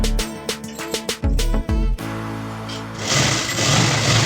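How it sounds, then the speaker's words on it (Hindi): A sewing machine slowly and smoothly stitches saree fabric for a gown, starting in short stop-start motor bursts before settling into a steady, close whirring run. "धीरे धीरे स्मूथ सिलाई चलाएंगे इसके ऊपर"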